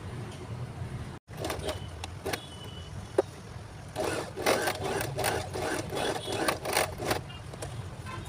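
Sewing machine stitching a round seam on a newborn baby cap, short bursts of close mechanical whirring and rattling that start and stop irregularly, with a brief gap of silence early on.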